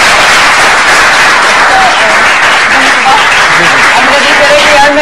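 A studio audience at a cricket talk show gives a loud, continuous burst of applause that stays dense and even throughout, with faint voices mixed in underneath.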